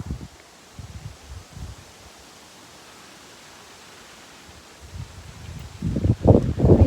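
Rural wind gusts after rain sweep through flowers, with soft rustling and blustery rumbles against the microphone, strongest in bursts at the start and toward the end, no speech.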